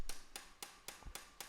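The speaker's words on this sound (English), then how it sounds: "Then you put the tool on and hammer it on." A hammer driving a bearing tool onto a bicycle axle, giving six sharp metallic blows at an even, quick rhythm, close and clear against a quiet background.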